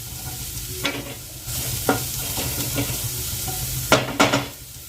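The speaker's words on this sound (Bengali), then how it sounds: "পেঁয়াজটা বেশ কিছুটা ভাজা হয়ে গেল এবার তিন পিস কাঁচা লঙ্কা কুচি করে রেখেছি দিয়ে দিলাম" Chopped green chillies frying with browned onions in a pan, a steady low sizzle broken by a few sharp scrapes and clinks of a stirring spoon against the pan.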